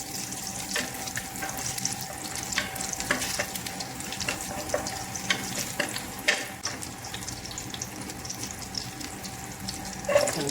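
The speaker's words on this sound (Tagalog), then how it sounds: "Ito na rin po pala yung ating kaning lamig, yung aking igigisa." Cold cooked rice sautéed in butter in a pan gives a continuous sizzle and crackle with scattered scraping and stirring clicks, steady and close throughout, with no speech.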